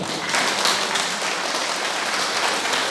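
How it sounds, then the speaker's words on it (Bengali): An audience at a Bengali religious question-and-answer gathering claps steadily to welcome a monk, giving a dense, continuous wash of applause throughout. "একটু হাততালি দাও"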